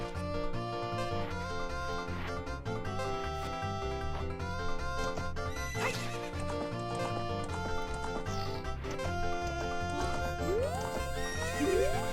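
Horse neighing and hoofbeats from the Zelda: Ocarina of Time video game, set in a corral, heard under continuous game music with a loud whinny near the end.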